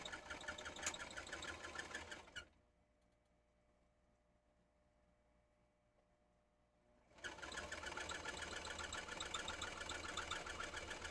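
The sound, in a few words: sewing machine stitching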